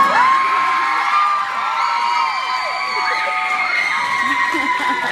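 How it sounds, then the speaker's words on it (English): A convention Q&A audience cheers and whoops loudly and continuously after a panel guest delivers the evil queen's famous line, a dense crowd roar with shouts rising over it. "Where else in the world do people cheer when you say that?"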